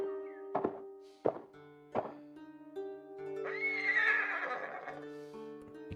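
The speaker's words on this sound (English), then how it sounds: "That's Miko. Miko is my horse" A horse in the Ghost of Tsushima video game gives a clear, drawn-out whinny midway, preceded by several sharp thuds and hits over sustained musical tones from the game score.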